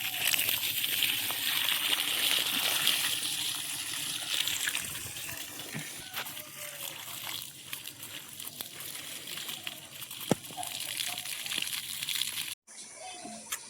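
Water runs along a village lane at a Sundarban dairy, a steady gushing and sloshing flow with occasional splashes and knocks, with voices talking nearby.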